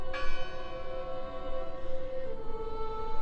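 A large bell swinging in the wind in the video game Draugen rings once with a strong strike, then its deep metallic tone hums and slowly decays, loud and alone.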